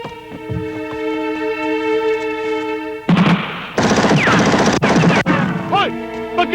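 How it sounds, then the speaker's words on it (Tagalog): A gunshot fired as a warning in a Filipino film scene cracks out loudly, followed by sharp crashing bursts and clattering impacts, over a sustained musical drone that cuts away abruptly. "Warning shot lang yun ah!"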